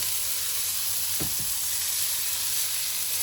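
Garlic and onions fry on a Weber kettle grill, giving a loud, steady sizzle and hiss with a brief stirring scrape near the middle.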